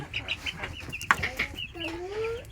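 Hens at a small poultry farm in Bangladesh cluck softly and repeatedly nearby, with one brief louder squawk and a rising call, while a person talks quietly in the background.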